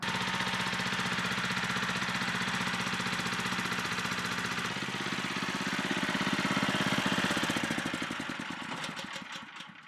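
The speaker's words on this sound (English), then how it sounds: "I just ran this engine on idle for a half hour-ish with fresh oil." A freshly installed engine on a repaired pressure washer idling with fresh oil, a loud steady close-up chugging rumble that swells slightly before winding down and fading out near the end.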